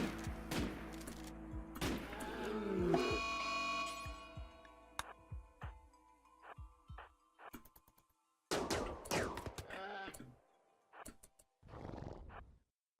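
Bursts of gunfire crack out among horse whinnies in a Wild West game of Rimworld, with several quick irregular shots and thuds, some loud and close, separated by short pauses.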